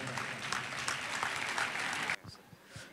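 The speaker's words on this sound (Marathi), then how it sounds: "टाळ्या जोरात." An audience applauds at a prize distribution ceremony with a loud burst of clapping that cuts off sharply partway through, after which a few scattered claps and faint voices remain.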